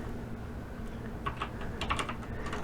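Fingers type on a computer keyboard in a short, quiet sequence of light clicking keystrokes, clustered in two small bursts over a soft background hum.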